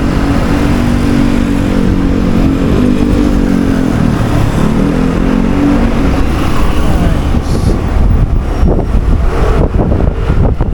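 Kymco Like 125 scooter being ridden, its engine droning steadily throughout with wind buffeting the microphone and rising throttle as it pulls away, close and loud.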